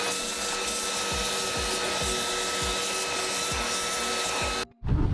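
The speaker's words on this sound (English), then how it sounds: "go ahead and hit it with a vacuum one more time." A vacuum cleans up around the fuel pump area of a 2010-2012 Ram 1500 truck, running as a steady, close, whining drone before cutting off abruptly near the end.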